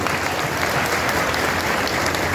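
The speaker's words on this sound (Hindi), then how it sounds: "एक बार सभी बिहार के साथी जोरदार ताली बजाकर इनका स्वागत कीजिए" Steady, dense applause from a crowd welcoming a guest to the stage at a political rally in Bihar, an even wash of clapping with no voices rising above it.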